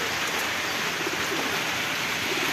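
Pigeons roosting in heavy afternoon rain, with steady rain hiss filling the scene and a few soft, low coos rising briefly in the middle.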